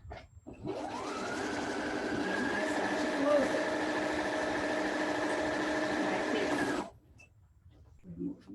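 A sewing machine stitches a quilt project in one steady, continuous run of about six seconds, loud and close, then stops, with faint handling sounds afterward.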